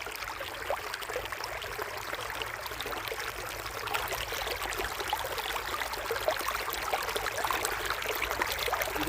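Water of a stream flowing steadily past a riverside campsite, a constant close trickling and rushing wash with no pauses and no voices.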